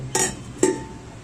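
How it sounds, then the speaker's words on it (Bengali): A bowl is set over food cooking for saanjer pitha, making two close, sharp ceramic clinks about half a second apart, followed by a faint ringing decay in a quiet kitchen. "এখন আমি এটা বাটিটা দিয়ে ঢেকে দেব।"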